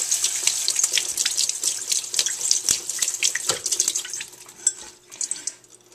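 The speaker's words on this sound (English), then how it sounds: "So the noodles have cooled off, and we'll just kind of give them one more rinse." Cooked ramen noodles rinsed under a running kitchen faucet, a steady close splash of tap water into a sink with scattered sharper splatters and knocks as the noodles are moved about, no voices.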